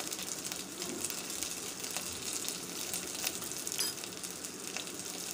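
Mustard seeds and cumin sizzle in hot oil alongside green chillies and crushed garlic, a steady close crackling hiss scattered with sharp little pops, with no talk.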